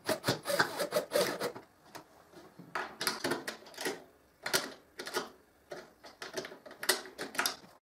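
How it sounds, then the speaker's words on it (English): A thin drill bit bores a mortise in a wooden window frame, in repeated bursts of rough grinding and rasping, each a second or so long, separated by short pauses. "I use a thin drill bit to make an ugly mortise so the latch can lock the window"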